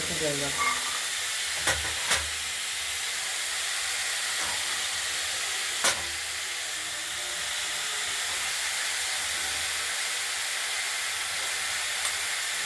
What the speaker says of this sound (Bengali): এইগুলো দিয়ে একটা ভাজা ভাজা তরকারি আমরা তৈরি করব।